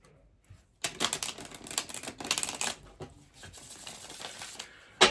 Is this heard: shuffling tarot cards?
yes